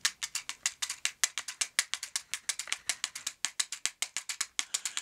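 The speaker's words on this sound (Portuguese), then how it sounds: "Abriu a caixa de fósforo, não risca, para prevenir incêndios, lógico." Matchbox used as a samba percussion instrument with the box slid open, giving quick dry rattling shakes in a steady syncopated rhythm, close and crisp with no voices.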